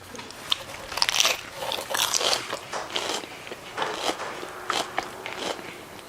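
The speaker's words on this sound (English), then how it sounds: "I'm eating the lettuce and making it crunch" Fresh crunchy lettuce with some onion being bitten and chewed close to a clip-on mic, a series of crisp, irregular crunches and wet chewing bursts in an otherwise quiet setting.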